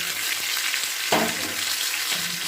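Papaya, drumstick, beans and other vegetables sizzling in a pan for Bengali shukto while being stirred, a steady close frying hiss broken by a sharp scrape of the spatula near the middle.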